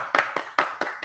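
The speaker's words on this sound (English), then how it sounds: "a round of applause for our" A small meeting audience at an IETF technical session gives a short burst of applause for the judges, a few close, distinct clapping bursts in uneven rhythm over about a second.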